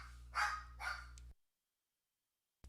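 A dog barks twice indoors, two sharp, close yaps in quick succession over a low hum, then the sound cuts to silence.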